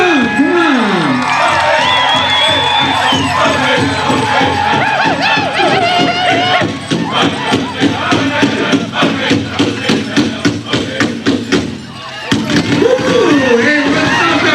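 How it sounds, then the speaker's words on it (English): Loud, dense crowd cheering and whooping at the Wiky Cultural Festival powwow, continuous and near, with voices shouting over the din and a brief dip before the noise swells again. "Everybody cheer on, come on."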